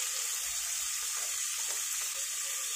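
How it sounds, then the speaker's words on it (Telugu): Carrots, beans and potatoes fry in a pan for vegetable upma, giving a soft, steady sizzle and hiss that stays even throughout without any voices. "వెజిటేబుల్స్ అన్నిటిని కూడా బాగా ఫ్రై చేసుకోవాలి."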